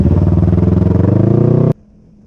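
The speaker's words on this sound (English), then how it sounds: "how super loud that RLS Predator exhaust is" Can-Am Ryker with an RLS Predator exhaust, a very loud, close, rapid pulsing engine note that climbs slightly in pitch and then cuts off abruptly, leaving near silence.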